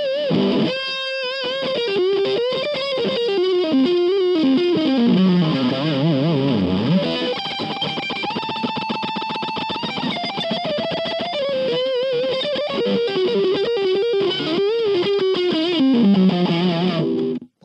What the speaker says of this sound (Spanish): Vamos a una distorsión.